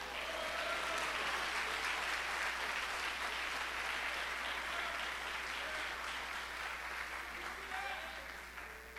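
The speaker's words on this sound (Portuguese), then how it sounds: "Vocês podem aplaudir a Jesus?" A church congregation applauds steadily and continuously at a moderate distance, a sustained wash of clapping with voices faintly mixed in.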